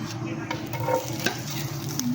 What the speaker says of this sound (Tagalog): mainit na yung mantika. Pwede na natin ilagay yung bawang.